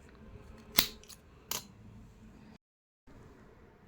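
Two crisp snips of scissors trim the thread of a crocheted saree tassel, close and distinct against quiet room tone, followed by a short silent gap.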